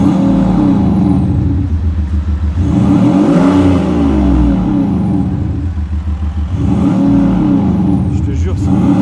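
Range Rover Sport Startech with a stainless steel exhaust and active sound, its engine revving close by in deep, booming swells that rise and fall twice, loud and continuous, with voices talking over it.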